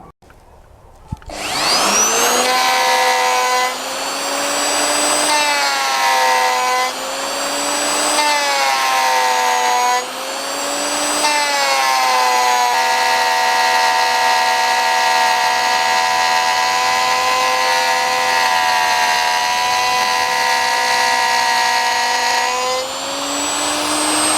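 A hand-held router mills a 400 by 400 mm surface plate, giving a loud, sustained high whine that rises and falls slightly as the cut load changes. A brief knock is heard at the start, and no one speaks.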